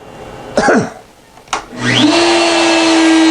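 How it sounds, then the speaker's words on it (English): A CNC spindle spins up after brief clatter, settling into a steady, loud whine with a low hum that holds to the end, heard alone without talk. "Spindle is on. Going down."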